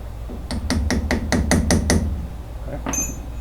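Wrench or hammer work tightening the wheel bearing on an antique car: about eight evenly spaced sharp metallic strikes or clicks in quick succession, close and fairly loud, followed by a brief scrape and a faint high ring.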